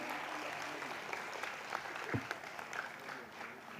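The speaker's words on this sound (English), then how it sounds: "Can we clap for them one more time, ladies and gentlemen?" An audience at a digital transformation summit applauds in a steady, moderately distant patter of clapping that carries on through the whole stretch.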